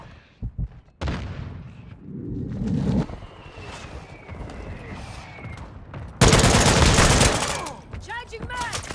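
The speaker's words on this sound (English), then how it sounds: "Friendly mortar strike inbound." Mortar strike explosions in the video game Call of Duty: Modern Warfare II, scattered blasts and gunfire building to a heavy, loud barrage in the final seconds, with voices speaking over the combat.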